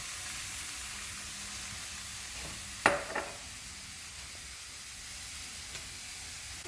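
Soft, steady sizzle of vegetables and tofu frying in a skillet for a vegan cashew tofu dinner, with a couple of sharp utensil clinks and a brief stir partway through.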